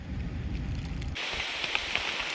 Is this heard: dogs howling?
no